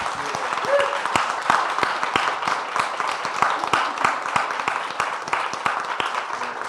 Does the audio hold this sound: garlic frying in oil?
no